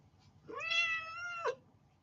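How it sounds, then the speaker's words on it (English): A single clear, drawn-out meow from a nearby cat caught on a sweater, rising then holding steady for about a second before ending with a brief upward chirp, in an otherwise quiet room. "The cat is caught on my sweater."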